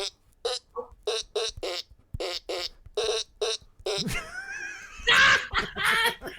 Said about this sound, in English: It's called a fart piano.